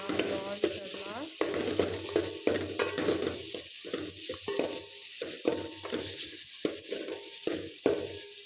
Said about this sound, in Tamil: ஸோ நம்ம எடுத்து வச்சிருந்த ப்ரான்ஸ் ஆட் பண்ணிட்டு நல்லா கிண்டி விட்டுறலாம்.